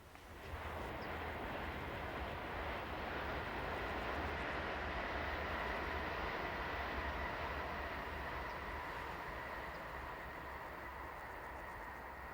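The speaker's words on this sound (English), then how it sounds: "this Class 411 unit heading north on the approach to Neustadt Mitte station" A Class 411 electric train unit heading north on its approach to Neustadt Mitte station, a steady, loud rolling rumble and hum that holds throughout with no talk.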